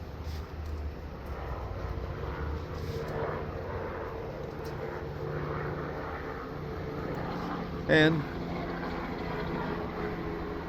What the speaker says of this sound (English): our wonderful helicopter or airplane flyby